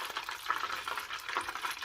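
Crispy chicken wings fry in hot oil with a steady, fairly quiet crackling sizzle that runs evenly throughout, with nobody talking.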